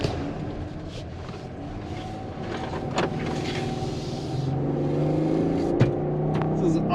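A Chrysler Pacifica minivan with a 3.6-liter V6 drives off, its engine hum rising gradually as it gains speed, heard from inside the cabin, with a few clicks and thumps on top.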